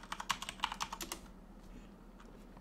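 Keyboard typing as a router admin username and password are entered, a quick burst of faint, close clicks for about a second, then quiet.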